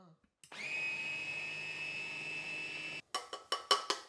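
An electric chopper whirs steadily for about two and a half seconds while mincing ingredients for a seasoning mix, then cuts off and gives several short pulsed bursts, close and clear.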